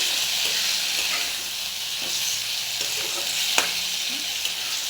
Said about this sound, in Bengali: আলুগুলো অ্যাড করে দিয়েছি, দিয়ে ভালো করে কষিয়ে নেবো